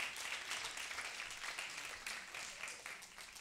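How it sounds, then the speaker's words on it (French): A church congregation applauds the worship team, steady dense clapping from many hands filling the room, moderately distant and without pause. "juste par nos applaudissements, on peut bénir l'équipe de louange"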